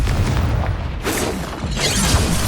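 Blasting spell going off in a Hogwarts Legacy duel, two rough bursts of broadband noise over a constant low rumble, loud and close with no clear sharp onset.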